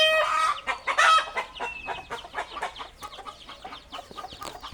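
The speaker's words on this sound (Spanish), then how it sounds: "Y por ahí podemos ver que también hay más gallinas." Hens cluck on a ranch where chicks are also present, a cluster of fairly close, loud squawks at first, then easing into a run of softer, rhythmic clucks.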